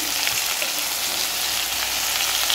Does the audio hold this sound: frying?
yes